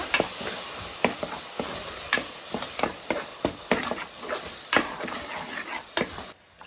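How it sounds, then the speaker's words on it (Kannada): Masala spices frying in oil sizzle loudly and steadily up close, broken by repeated sharp scrapes and clinks of a spoon stirring the pan, with no talk. "ಸ್ವಲ್ಪ ಎಣ್ಣೆಯಲ್ಲಿ ಮಸಾಲೆನ ಸ್ವಲ್ಪ ಹಾಗೆ ಹಸಿ ವಾಸನೆ ಹೋಗೋವರೆಗೂ ಫ್ರೈ ಮಾಡೋಣ"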